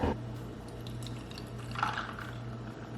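Almond milk and creamer pour into a glass of iced coffee, a short, soft liquid trickle with small splashes and drips, fairly faint and close, and no speech.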